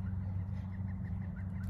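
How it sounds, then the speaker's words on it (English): Neighbors' chickens outdoors give a short run of soft repeated clucks over a steady low rumble of passing traffic. "my neighbors got some chickens outside"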